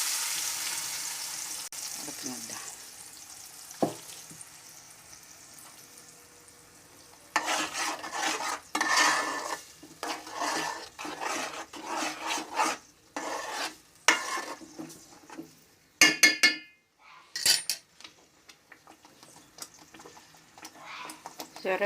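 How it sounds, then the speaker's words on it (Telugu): Onions frying in oil in a pan for a Godavari village-style fish curry, a low sizzle at first and then louder scraping stirs in irregular bursts, close up, with no talking. "ఇప్పుడు మళ్ళీ కాస్త నూనె వేసుకున్నాను ఉల్లిపాయలు ఫ్రై చేసి"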